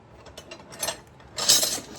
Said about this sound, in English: Pull these wrenches aside.